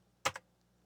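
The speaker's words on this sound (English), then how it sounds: "It's simple, just type in your name." A couple of quick, close computer keyboard key clicks as a name is typed, a brief double tap standing alone against a quiet background.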